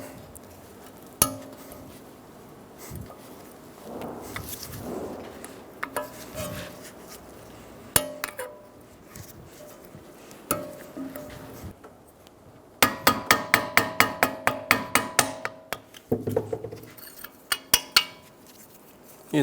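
Sharp metallic taps of a punch and small hammer driving a steel insert out of a 2007-2011 Toyota Camry front wheel hub, scattered single strikes early, then a fast rapid run of ringing blows near the end.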